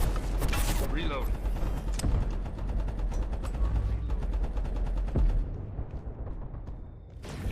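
Weapon reload in the video game Abiotic Factor, a run of quick mechanical clicks and ratcheting clacks over dense background game noise, with a few sharp bangs at the start and near the end.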